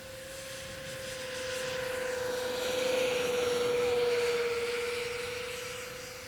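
An E-Flite Airbus A320neo RC jet with twin 64mm electric ducted fans makes a half-throttle flyby, its steady whine swelling as it nears, peaking mid-pass and fading away, with no voices.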